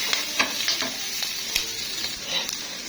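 Liver going into a pan of onions that have been sautéed for about five minutes, giving a steady close sizzle and frying hiss with a few scraping stirs and clinks over it, and no voices.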